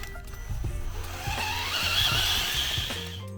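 A BRX02 RC car runs in second gear, its motor whining and rising in pitch as it accelerates. Tires scuff and skid over the surface in short bursts.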